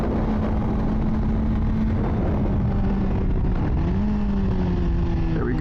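A 2024 Honda CBR600RR held in second gear during cornering practice, its engine droning steadily up close with a sustained tone that dips and rises slightly near the end, wind noise mixed in, no talk.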